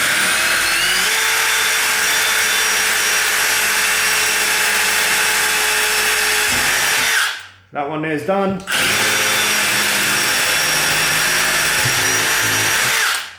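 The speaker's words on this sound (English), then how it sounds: "We take the drill and just work that one there through." A power drill whirs steadily for several seconds boring through a cabinet door, stops briefly while someone says a few words, then whirs again.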